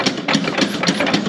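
A 99-year-old McCormick tractor engine with original Dixie Aero 46C magnetos, revived after more than 40 years idle, cranks and tries to fire in loud, rhythmic chugging bursts, with no voices.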